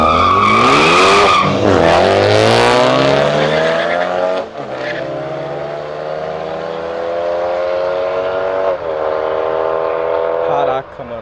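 A BMW 320 and a VW Passat 2.0 street racing, loud engines screaming up through the gears with rising and falling pitch and tyres skidding, close and continuous.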